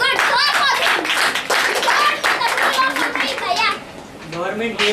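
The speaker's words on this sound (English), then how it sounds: "Clap for him." Clapping from an audience of children at a school debate competition, a mix of hand claps under steady chatter and children's voices across the whole stretch.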